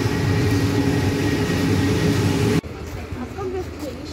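A train approaches from the distance, a loud steady low rumble and roar that cuts off abruptly partway through, leaving quieter background where people talk.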